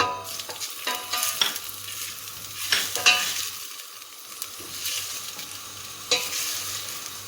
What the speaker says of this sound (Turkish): Zeytinyağımız ısındıktan sonra bir küçük doğramış olduğumuz soğanımızı ilave ediyoruz.